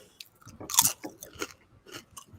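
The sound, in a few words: crunching a crispy snack, a potato chip alternative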